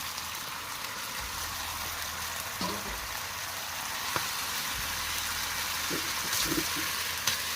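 Squeezed, washed kamias (bilimbi) sautéing in a pan, a steady moderate sizzle with a few clinks and stirring knocks, no talking.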